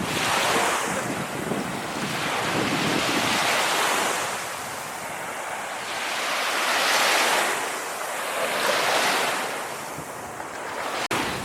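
Ocean waves roll onto a beach in Busan, a loud continuous surf that swells and recedes in slow rhythmic surges, mixed with heavy wind buffeting the microphone and no voices.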